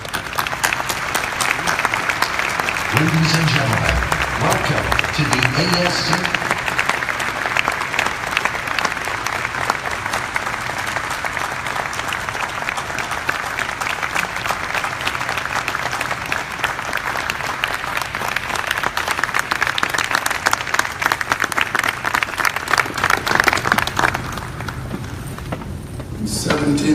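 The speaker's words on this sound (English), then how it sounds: "Ladies and gentlemen, please take applause to him." An auditorium audience at an ophthalmology hall of fame induction ceremony gives sustained, dense applause that stays loud for most of its length before tapering off, with an announcer's voice heard briefly near the start.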